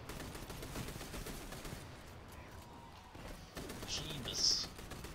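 Gunfire in the Destiny 2 video game, a faint, dense stream of rapid shots and crackling impacts running throughout, thinning briefly in the middle before picking up again.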